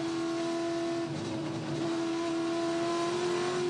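Onboard a Touring Car Masters race car at Queensland Raceway, the engine holds a loud, steady high drone at sustained revs and fills the whole cabin with no voices.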